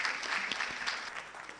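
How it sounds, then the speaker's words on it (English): A conference audience at an SME expo gives a short, steady round of applause, dense clapping filling the room at moderate volume. "Let's give a round of applause to us for that"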